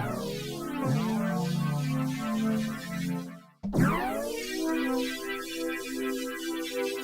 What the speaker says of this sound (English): Here's a little wavetable patch.